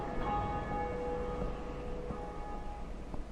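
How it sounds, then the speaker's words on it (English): Bell of Awakening tolling in Dark Souls, with a sustained metallic ringing that hangs over a dense rumbling background and swells again near the end. "Bell of awakening."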